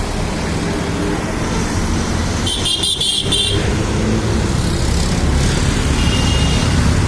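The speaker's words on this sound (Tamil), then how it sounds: "லாரி எல்லாம் போகிறதே அதுதான்" Lorries and traffic roaring past on GNT Road in Chennai, a loud steady wash of engines and road noise with a short burst of horn toots partway through.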